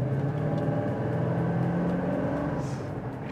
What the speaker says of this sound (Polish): tego dźwięku V8 pominąć oczywiście nie można